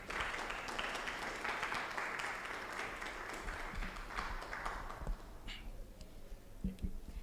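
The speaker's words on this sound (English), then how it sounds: "a round of applause for Mr. Ejay Nyarko" Conference audience at a financial technology and business innovation event applauding a speaker; sustained, fairly distant clapping across the hall that thins out after about five seconds, followed by faint room noise and shuffling.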